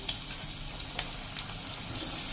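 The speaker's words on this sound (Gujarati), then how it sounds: "તો હવે આપણે આ રીતે સોયા ચંક્સને તળી લેશું।" Steady bubbling sizzle of soya chunks deep frying in hot oil over a low-to-medium flame, with occasional soft pops and crackles, close and continuous.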